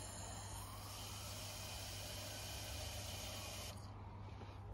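A continuous close hiss of an aerosol can of ACF50 anti-corrosion spray on a KTM 1290 Super Adventure motorcycle, steady for several seconds before cutting off near the end over a low hum.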